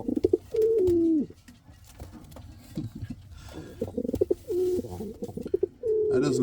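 Indian fantail pigeons coo close by in a breeding loft. Several rolling coos come in bursts with quiet gaps and soft rustling between them.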